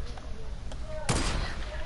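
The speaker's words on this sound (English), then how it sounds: "Now they're sniping me, I don't know why." Sniper rifle shots in an online shooter game, a sharp loud report cracking out near the middle over a constant rumble of game noise, with a couple of fainter shots earlier.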